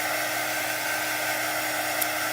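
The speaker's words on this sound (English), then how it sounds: "Get your dryer out." A handheld dryer, used for chalk paste crafting, blows with a steady, loud whirring hiss that holds unchanged throughout.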